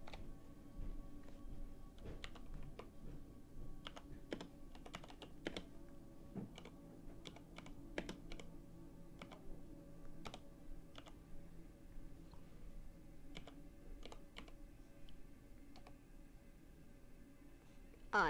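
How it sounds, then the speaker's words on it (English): Quiet, close tapping on a computer keyboard during a Roblox game, with irregular clusters of key clicks and short pauses spread over about eighteen seconds. "I'm going to type."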